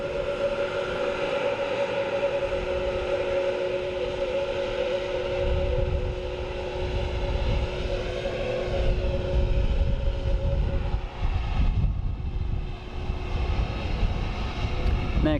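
A new Airbus A321neo at Dublin Airport gives off a sustained engine whine with a steady high tone, the rumble growing heavier and rougher toward the end, with faint talk in the background.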